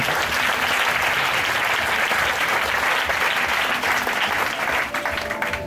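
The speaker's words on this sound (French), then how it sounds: "Est-ce que tu peux acclamer le Seigneur pour leur vie?" A church congregation breaks into loud, sustained applause in praise of the Lord, a dense wash of clapping that tapers slightly near the end.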